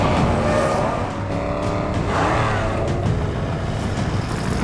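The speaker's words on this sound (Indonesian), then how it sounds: "Mobil-mobil ini melaju kencang." Cars racing at high speed in a dramatic action film scene, a loud continuous engine roar with passing whooshes and tire noise, no talking.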